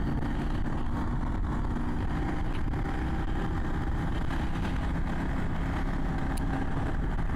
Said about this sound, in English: This is a very loud bike.